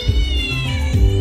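A person imitates a cat's meow during a tournament gathering, with a couple of drawn-out, rising and falling mewing calls voiced loudly and close up.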